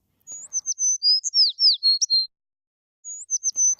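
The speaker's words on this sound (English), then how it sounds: "A passing cat heard the bird singing and came to investigate." A small bird sings close and clear, with a quick run of bright, whistled chirps, a short pause, then the phrase starting again, with nothing else heard.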